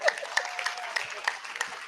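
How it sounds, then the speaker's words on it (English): A small audience gives a short round of applause, a thin scattering of claps with uneven rhythm, fairly close and quickly tapering, with some voices mixed in. "Round of applause."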